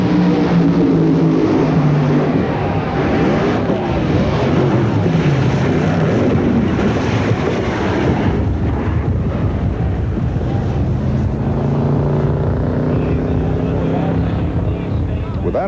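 Funny cars drag racing at the 1985 NHRA Cajun Nationals, with John Collins and Ed McCulloch: a loud, continuous engine roar mixed with wind buffeting, its pitch shifting as the cars run, sustained for the whole stretch.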